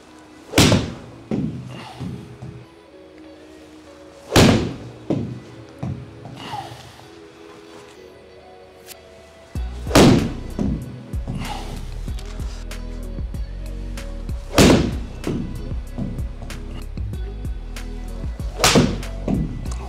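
A Tour Response Stripe golf ball is struck with a pitching wedge: several sharp, loud impact cracks sound a few seconds apart, with quieter background noise between them.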